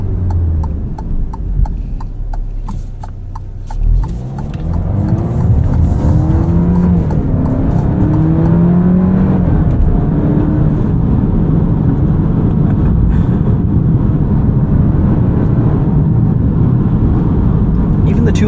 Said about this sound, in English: The 2-liter turbo sounds pretty good. No gimmicks, no piped in noise, just pure engine sound.